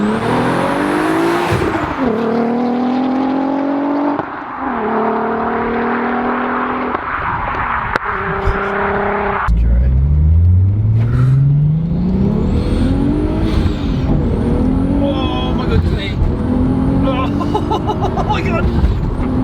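A modified 520 bhp Volkswagen Golf R32 Turbo accelerates hard through several gears, the engine note climbing and dropping at each shift, loud and close from inside the cabin with occupants speaking over it.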